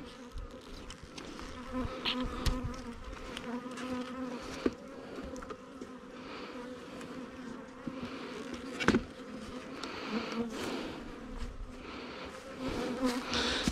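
Honey bees buzzing continuously around a flow hive, a dense swarm-like drone close by with individual bees passing near, steady throughout.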